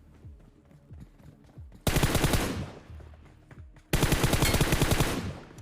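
Heavy automatic gunfire in the battle royale game BGMI, two loud sustained bursts after a quieter opening with scattered distant shots, each burst dense and rapid and fading off slowly.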